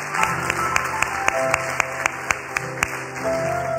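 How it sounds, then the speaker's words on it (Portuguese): A small church congregation claps for a couple celebrating their 40th wedding anniversary, steady rhythmic hand claps at a brisk, even pace filling a moderately reverberant room. "Vamos aplaudir a Deus pela vida deles?"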